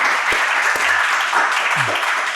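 Dense audience applause in a studio setting, steady clapping throughout with a few low thumps and brief murmurs underneath.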